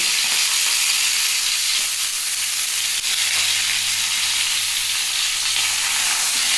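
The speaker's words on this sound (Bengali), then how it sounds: "এইটা দেখা একদম লাল লাল করে ভেজে নিতে হবে" Raw banana fritters with coriander leaves fry in plenty of oil, giving an even, constant hiss and crackle up close, uninterrupted by talk.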